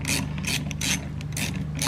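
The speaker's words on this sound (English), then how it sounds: "we get a 7mm socket. So we just want to undo that bolt just here" A ratchet fitted with a 7mm socket clicks rapidly in short repeated bursts while undoing a bolt on a car's cold air intake clamp, close and clear with no talking.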